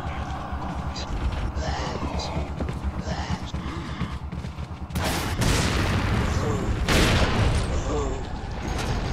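Rocket launcher blasts in the video game Resident Evil 4, a heavy roaring explosion bursting in midway and a second one a couple of seconds later, over a scattered bed of game noise and a voice talking.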